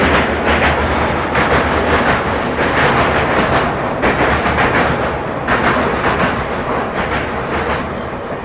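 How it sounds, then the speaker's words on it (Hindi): The Chennai Duronto Express thunders past at close range, a loud, continuous roar of rolling wagons with steady clickety-clack wheel beats over the rails throughout and no voices. "और ये जो आप ट्रेन देख रहे हो ये है चेन्नई दुरंतो एक्सप्रेस।"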